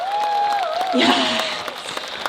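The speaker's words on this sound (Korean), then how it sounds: "뜨거운 박수 한번 부탁드립니다" An audience claps at an outdoor Cheongsong Apple Festival live concert, a dense patter of applause under a single voice exclaiming over it.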